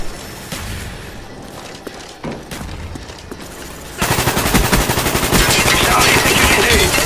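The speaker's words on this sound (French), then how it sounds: "Coordonnées pour mortier reçu, tir à volonté." Call of Duty Black Ops mortar strike in an online match: a dense, loud barrage of rapid explosive blasts and gunfire erupts after several seconds of quieter scattered shots.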